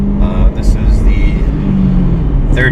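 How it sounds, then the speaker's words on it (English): A 2007 Ford Mustang GT CS, S197 generation, cruising with a steady low engine drone and road rumble from inside the car, while people talk over it throughout. "driving a 2007 Mustang GT CS"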